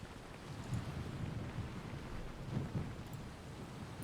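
Thunder rumbling through an oppressive rust storm in the fantasy role-playing game Tyranny: a low, continuous rolling rumble with rain-like hiss, moderately quiet and steady, with no speech.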